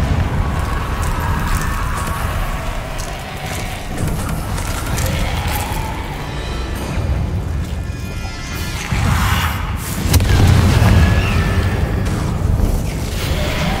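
Repeated Confringo fire-spell blasts from Hogwarts Legacy boom and crackle in heavy, overlapping bursts, with rumbling explosions and clattering debris sustained throughout and swelling louder near the end.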